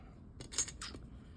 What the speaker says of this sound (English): I'm gonna just gently cut down through